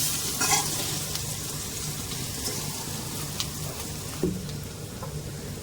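A steady sizzle of frying on a low flame with occasional scraping and clinking as vermicelli is stirred in a pan.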